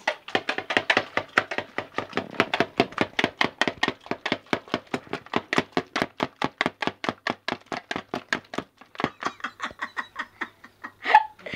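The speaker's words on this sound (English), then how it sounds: "I'm gonna whisk butter with, I'm gonna use my hand whisk" Butter whisked by hand with a hand whisk, rapid rhythmic clicking strokes of the wire against the bowl, fast and regular, close and fairly loud, slowing briefly near the end.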